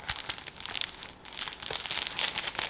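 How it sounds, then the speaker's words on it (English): Cellophane wrapping on a Xerjoff Cruz Del Sur II perfume box crinkles and crackles continuously at close range, with dense bursts of sharp rustling and no talking. "I love the sound of cellophane on a perfume box"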